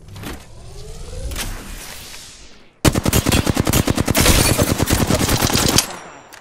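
Apex Legends gunfire starts with scattered shots, then after a brief pause breaks into a loud, rapid automatic burst of evenly spaced rounds lasting several seconds before cutting off.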